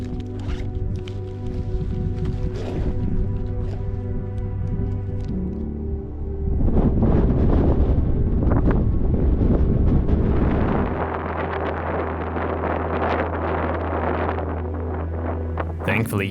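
Strong wind on a mountain peak in Montenegro buffets the microphone with heavy, rumbling low gusts that swell and ease over the whole stretch. Rustling handling noise sits underneath.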